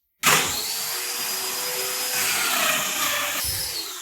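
A Domino joiner cuts an angled mortise in wood, starting abruptly with a loud, close, high whining motor and steady cutting roar that holds for nearly four seconds without any talk.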